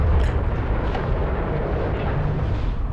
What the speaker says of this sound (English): I think that sounded a bit too loud, those explosions.